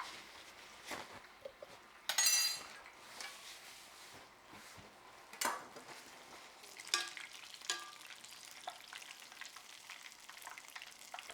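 Haddock fillets fry in hot oil with a soft, steady sizzle, broken by a few sharper crackles and stirring clatters, quiet and close with no talking.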